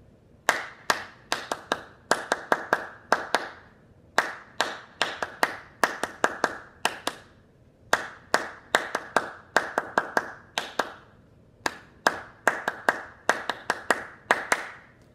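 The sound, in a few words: hands clapping a rhythm pattern together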